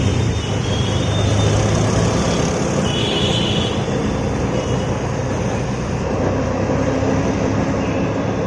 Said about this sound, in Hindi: गाड़ी हिलते रुकते रुकते चल रही है।